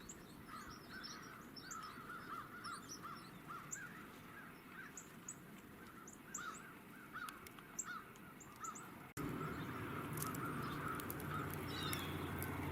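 Crows caw repeatedly at a distance over steady outdoor background noise in winter, with several birds calling in loose, irregular bursts.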